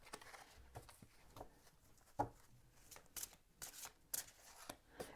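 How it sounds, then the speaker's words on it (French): Tarot cards drawn and slid from a deck in a quiet room, a string of soft quick paper flicks and shuffles with a brief sharper snap partway through, close and alone without any talk. "Alors, je vais tirer d'autres cartes."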